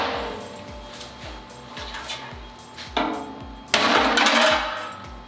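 Ford Mustang GT impact bar being smacked off during a wreck rebuild, a few hard metallic bangs near the end, loud and close, over a steady faint background of repeating low knocks.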